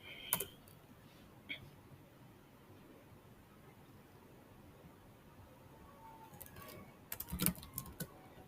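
Quiet, irregular clicks of a computer keyboard while typing assembly code, a few isolated keystrokes early and then a quicker cluster of taps toward the end, over faint room hiss.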